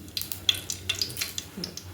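Whole spices — two bay leaves, cinnamon, cloves, black peppercorns and cardamom — frying in hot oil for pulao, a soft steady sizzle with light stirring scrapes and faint clinks of a pan, close by and without talk.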